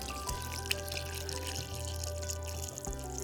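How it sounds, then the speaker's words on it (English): Pork tonkotsu broth poured over ramen noodles, a steady watery pour running continuously for a few seconds with faint kitchen clatter, no talking. "Pour the broth over the noodles"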